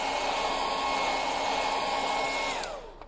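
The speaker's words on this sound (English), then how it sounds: "Just using a little bit of hairdryer" A hair dryer blowing during a craft project making stencilled farmhouse signs, a steady close whirring hiss that holds evenly and then winds down at the end, with no talking.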